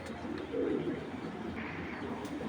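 A female Giribaz pigeon coos softly, one low rolling coo standing out over a faint, steady background.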